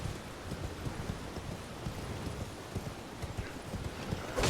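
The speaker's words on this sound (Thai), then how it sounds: "เรียกม้ามาแล้วก็ไปต่อทุกคน" A summoned horse gallops in the video game Elden Ring, a fast, steady run of hoofbeats under a rushing wind-like noise bed, faint and continuous.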